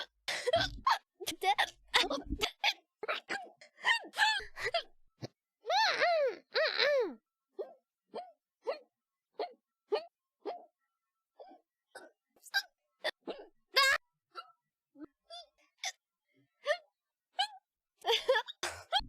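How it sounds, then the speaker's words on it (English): A person hiccups over and over: short, sharp, irregular vocal jolts, some louder and more voiced than others, mixed in with stretches of talking. "I don't want to hiccup anymore."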